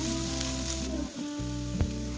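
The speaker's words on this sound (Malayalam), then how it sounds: "ഇനി ഇത് നന്നായിട്ടൊന്ന് വഴറ്റിയെടുക്കണം." Green chillies with salt sauté in a hot pan, giving a steady, loud, close sizzle with a brief stirring scrape and a dip partway through, and no voices.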